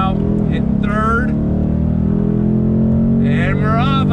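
A 2020 Ford Mustang GT accelerates hard after shifting into third gear, its engine note droning loud and steady while someone talks over it.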